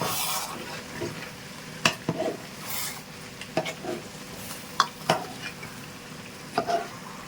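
Mutton biryani is stirred in a pot over a low flame: sporadic scraping strokes and soft clanks of a spoon against the pot over a faint background hiss.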